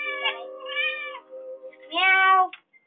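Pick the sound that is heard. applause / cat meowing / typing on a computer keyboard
cat meowing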